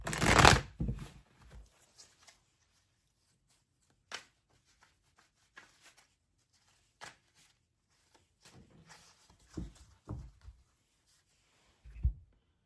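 Tarot cards shuffled by hand at close range, a dense riffling burst at the start followed by scattered soft slaps, taps and card rustles separated by quiet gaps.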